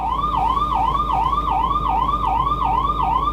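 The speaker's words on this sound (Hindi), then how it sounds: "और इधर एम्बुलेंस आ रही है." An ambulance siren in Delhi traffic, a loud wailing tone rising and falling in a fast regular cycle, repeating about eight times close by over a low traffic rumble.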